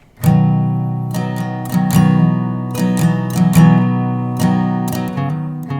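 An acoustic guitar strums several chords, then shifts into a riff of single picked notes and short strums mixed together, close and clear.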